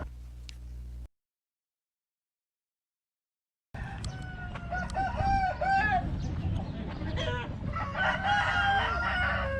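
Roosters crow repeatedly amid clucking chickens and other birds in a rural seaside area near Bangkok, Thailand, fairly close and busy, with a brief silent gap before the crowing begins.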